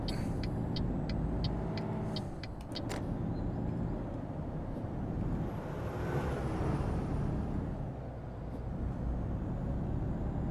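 A heavy truck in Euro Truck Simulator 2 pulls away with a steady low diesel rumble and a brief air-brake hiss near the start, the engine droning on evenly throughout.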